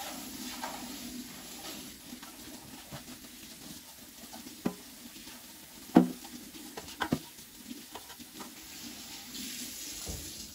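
An air fryer basket being rinsed under a running kitchen faucet, with a steady stream of water and occasional clunks of the basket against the sink.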